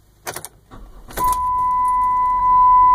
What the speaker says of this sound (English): And now turn the car on.